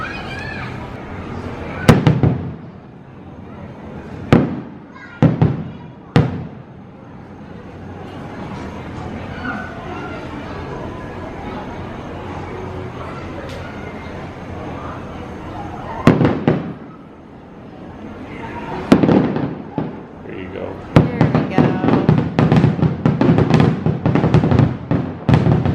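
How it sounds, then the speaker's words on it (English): Fireworks at Disney's Yacht Club resort, heard from a distance as scattered sharp bangs and pops over a steady outdoor murmur, ending in a rapid cluster of bursts, while people talk nearby. "we will come back and see if we can see any fireworks"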